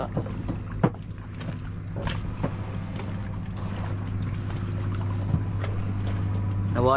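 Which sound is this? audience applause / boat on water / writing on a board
boat on water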